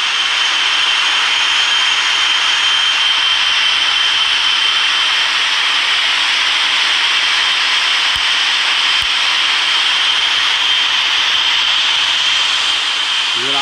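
Boeing 777-300ER jet engines on the takeoff roll in the RFS flight-simulator game: a steady, loud, even roar with a bright hiss that holds unchanged throughout, with no voices.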